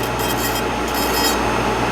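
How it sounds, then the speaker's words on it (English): A dental burr grinds super glue residue off a cold-cure acrylic denture with a continuous close, gritty rasping hum that holds steady throughout. "You just kind of slowly, carefully kind of clean, get it off with your burr."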